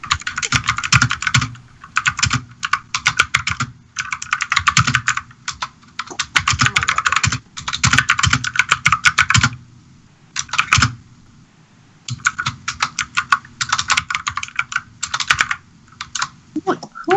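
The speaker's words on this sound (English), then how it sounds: "Who is having a fun time on their keyboard?" Rapid, loud typing on a computer keyboard during a live gaming session, coming in dense bursts of clicks with short pauses between them, while voices talk underneath.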